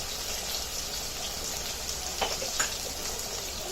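Onions frying in hot oil in a pan give a soft, continuous hiss and crackle, fairly faint and steady, with a few brief sharper pops near the end and no talking.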